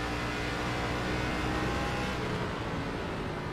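A race car engine in iRacing at Mid-Ohio drones steadily at moderate volume, a dense continuous mechanical roar that eases slightly toward the end, with no voices.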